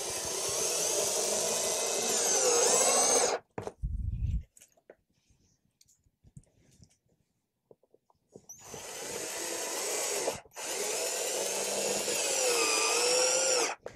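A power drill drives screws into Onduvilla corrugated roof shingles, giving two long, loud whirring runs separated by a quiet gap with a short low rumble and a few faint clicks.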